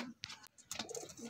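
A pigeon at a bird market gives faint soft coos with a few light flaps or taps, quiet and brief against low background noise.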